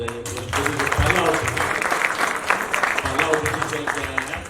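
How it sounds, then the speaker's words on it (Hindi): Audience clapping at the Chaupal Bhojpuri OTT launch event, a dense, steady burst of applause lasting several seconds, with voices and background noise mixed in. "आप लोग जोरदार ताली बजाइए"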